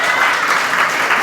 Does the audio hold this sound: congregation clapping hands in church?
yes